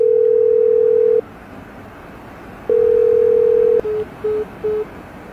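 A telephone dial tone sounds while a call is placed: a long steady tone, a pause, another long tone, then three short beeps, clear and close with no talking.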